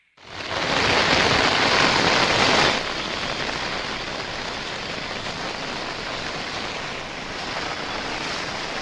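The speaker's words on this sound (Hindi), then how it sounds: "देर रात से ही मूसलाधार बारिश हो रही है" Torrential monsoon rain pours down in Jhansi, Uttar Pradesh, a dense roaring hiss that starts loud and close, then settles after a few seconds into a slightly softer steady downpour, with no voices.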